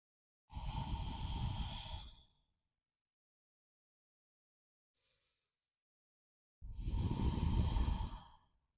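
Two slow, deep breaths during a gentle yoga flow, each a long airy exhale lasting about two seconds, separated by several seconds of near silence.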